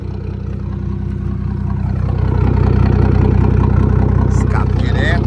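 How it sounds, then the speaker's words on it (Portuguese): A Ford F-250 XLT pickup with a tuned six-cylinder engine of over 400 horsepower and straight-pipe exhaust idles steadily with a deep, low rumble throughout, growing slightly louder partway through, with faint voices in the background. "Deixa só na lenta agora."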